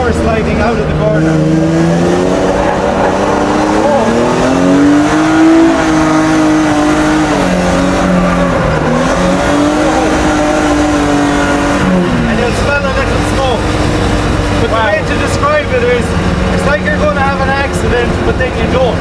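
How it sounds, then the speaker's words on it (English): A drift car power-slides out of a corner, its engine droning loud and steady with wavering revs throughout, sometimes edged by tyre noise, as people talk over it. "Just try power sliding out of the corner."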